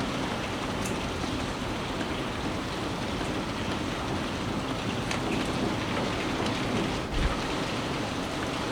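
Steady, dense rain falls outdoors with a distant rumble of thunder, a constant wash of drops filling the whole stretch at fairly loud level with no voices.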